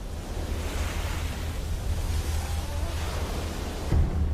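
Ocean waves wash steadily against Fiji's low-lying coastline at high tide, a continuous broad rushing surf with no voices, swelling slightly near the end.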